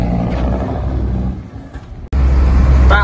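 A truck engine roars and rumbles close by as it accelerates, a brief drop at a gear change, then a heavier surge of low revving.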